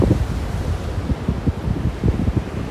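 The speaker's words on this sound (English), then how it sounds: "The waves that are crashing over the wall here are just incredible." Ocean waves crash over a sea wall beside slippery rocks, a loud, continuous roar of surf with repeated heavy surges and steady wind buffeting the microphone throughout.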